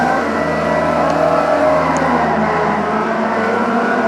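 A race car engine in the video game TrackMania drones loudly and steadily at a sustained pitch, continuous throughout with no pauses.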